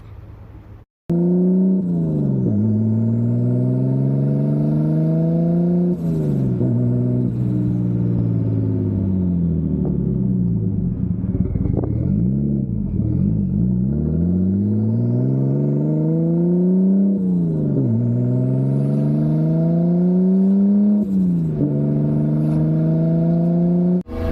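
A Nissan R32 Skyline with an RB-series engine and a newly fitted turbocharger is on a test drive, its engine droning loudly inside the cabin and rising and falling through several gear changes, with no one speaking.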